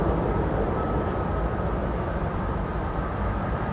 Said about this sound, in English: This is our jet. Sounds just like that.